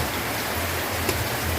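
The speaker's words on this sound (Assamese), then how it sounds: "আপোনালোকে দেখি গম পাইছে চাগে বৰষুণ পূৰা ধাৰাসাৰ বৰষুণ" Heavy downpour of rain pours steadily and loudly, a dense unbroken hiss of water with no voices.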